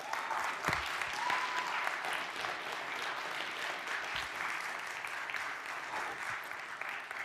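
A crowd claps steadily and continuously, a dense patter of applause that holds at an even level throughout.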